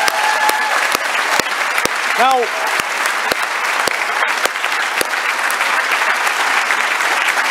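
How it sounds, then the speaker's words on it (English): A crowd at a pro-EU referendum rally applauds the event's organisers with a broad, steady roar of clapping, punctuated by sharp regular clicks, while a brief word of speech slips through near the end. "please give a big round of applause for the people who put this event together"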